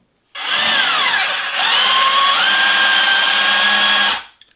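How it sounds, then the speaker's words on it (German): Electric motor of an Amewi ACV730 V3 radio-controlled excavator straining under a loaded bucket, a loud close whine that starts abruptly, dips and rises in pitch, then holds steady for about four seconds before cutting off. "Der Bagger, man hört, hat schon ein bisschen zu asten, aber es ist alles in Ordnung."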